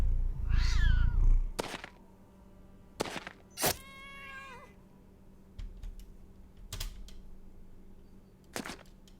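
Cat meowing in the Battle Brothers video game, a few short distinct meows and a wavering caterwaul amid sharp clicks and game effects, with no talk.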